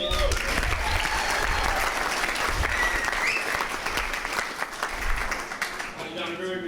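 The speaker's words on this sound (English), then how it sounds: "A big round of applause." Guests at a wedding reception break into applause, a dense, steady wash of clapping from a room full of people that thins out near the end, with some voices underneath.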